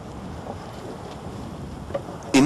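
Steady wind rushing over the open deck of a sailboat as it turns upwind to take in the sails, with faint water and hull wash beneath, about 200 metres from a harbour entrance; a brief louder rustle closes the clip.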